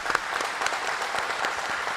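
An audience at the inauguration of the Smart India Hackathon Hardware Edition Grand Finale applauds the organizing team with steady, dense clapping that holds at an even level throughout.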